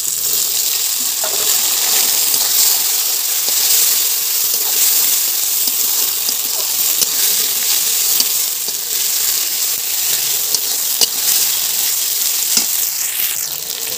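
Spice paste and tomato sizzling loudly in a frying pan for an egg and giant taro curry, a bright hissing crackle that stays steady and close throughout with no talking.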